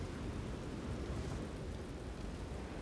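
Rain during a thunderstorm in the fantasy video game Elder Scrolls Online makes a steady, faint, even wash of broadband hiss with a low rumble beneath and no distinct claps of thunder.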